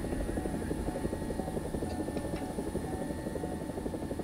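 Rotor drone and engine whine of a Chinese attack helicopter in flight in War Thunder, a steady dense roar held at constant loudness throughout with a faint high tone above.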